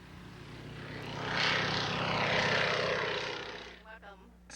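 A 1920s Curtiss Robin monoplane taking off from an airport runway at an air show, its propeller engine swelling into a loud, steady roar as it passes close by, then easing off.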